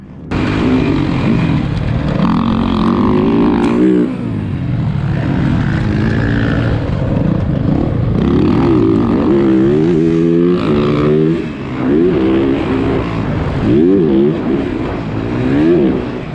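A motorcycle engine drones loudly throughout the ride, its pitch rising and falling as the bike speeds up and shifts, with heavy wind rush underneath and a brief dip near the end.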